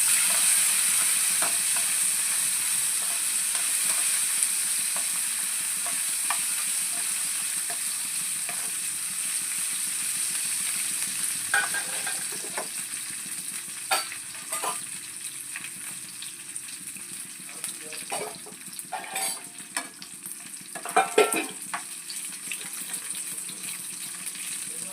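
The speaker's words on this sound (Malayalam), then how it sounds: "മുന്തിരി വറവായിട്ടുണ്ട്." Raisins and a couple of cardamom pods fry in a pan for payasam, giving a steady crackling sizzle throughout, with brief clinks and scrapes of stirring near the end and no talking.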